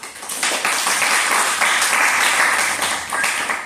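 Applause at a university polymer technology lecture, a dense, steady clatter of many hands lasting the whole stretch, fairly loud and close, with no talk over it.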